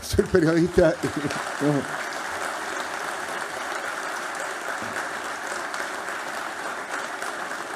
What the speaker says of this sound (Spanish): Es para ustedes, por supuesto, ese aplauso.